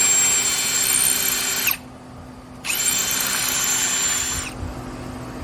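Power drill boring a hole into a wall for mounting a mosquito-repellent unit: two loud steady whirring bursts, close by, separated by a short pause.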